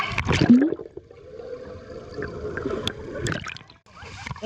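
A small child swims in a pool, with a burst of close splashing at the start followed by softer sloshing and gurgling water, with brief faint voices.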